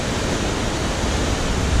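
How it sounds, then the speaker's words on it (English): Roaring waterfall where a full creek funnels through a narrow gorge, a dense, steady wash of rushing water close by, unbroken and loud with no voices. "this is the same volume of water just coming through a smaller opening coming down through that gorge"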